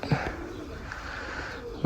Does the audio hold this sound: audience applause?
no